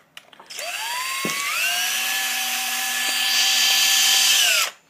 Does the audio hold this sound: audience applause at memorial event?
no